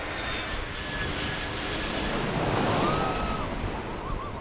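Jet airliner landing on a short runway at Saint Martin airport, heard from the beach, a steady broad engine roar blended with crashing surf and wind, loud and continuous throughout.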